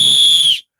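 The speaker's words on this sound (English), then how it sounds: "Maybe blow at the whistle" A referee's whistle gives one loud, shrill, sustained blast lasting just over half a second and then cuts off cleanly into silence.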